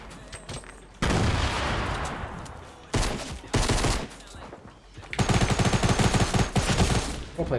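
Rapid bursts of automatic gunfire from the video game Fortnite, loud and close, with a brief lull before a sustained stretch of dense firing toward the end.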